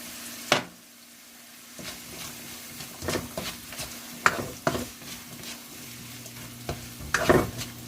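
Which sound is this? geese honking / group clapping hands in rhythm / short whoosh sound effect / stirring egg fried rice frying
stirring egg fried rice frying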